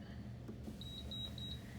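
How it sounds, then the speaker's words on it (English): A quick series of about five faint, high electronic beeps in an even rhythm over a low background hum. "you're going to hear the beeping"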